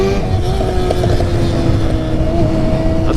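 A Suzuki GSX-R (Gixxer) motorcycle engine idles and revs steadily nearby near a frozen river, a continuous loud mechanical drone with slight rises in pitch throughout.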